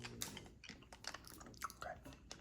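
Close, soft mouth sounds of a Werther's hard candy being sucked and clicked against the teeth, with small wet smacks and faint crunchy taps in a quiet room.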